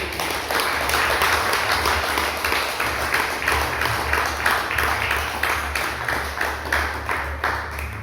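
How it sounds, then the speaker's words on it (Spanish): Congregation applause in a Spanish-language church service, loud rhythmic clapping in a steady unified beat, roughly two claps per second, over a low hum, continuing for several seconds. "Denle un fuerte aplauso al Señor."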